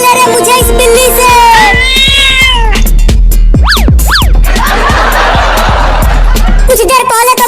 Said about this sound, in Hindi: बिल्ली चल भाग जा यहाँ से।